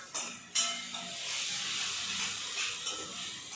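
Tomatoes sautéing in a pan for a Sunday mutton gravy give a steady, moderately loud sizzle and hiss, with a few brief scraping stirs near the start.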